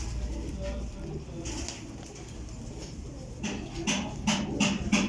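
Domestic pigeons kept as paired breeding birds coo nearby, soft low throaty calls that build into several repeated coos toward the end over a faint background murmur.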